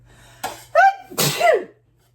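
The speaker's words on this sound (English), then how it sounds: "I am going to sneeze." A single close, sharp sneeze with a quick inhaled buildup in a kitchen during dishwashing, then silence.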